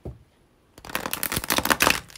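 A short pause, then a rapid flurry of riffling and flicking as tarot cards are shuffled close by, crisp and papery.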